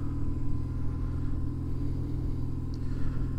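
A BMW R1150GS motorcycle rumbles along at low speed on a short test ride, its boxer engine giving a steady, close, throbbing drone with no voices.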